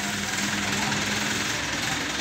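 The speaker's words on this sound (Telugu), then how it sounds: "75 హెచ్పి ఉన్న బండిని, ఫోర్ వీల్ డ్రైవ్ ట్రాక్టర్ని బాక్స్ మీద తీస్తున్నారు" A 75 hp four-wheel-drive tractor being driven onto a John Deere harvester box at an assembly site gives a steady, loud engine drone with a constant hum and no breaks.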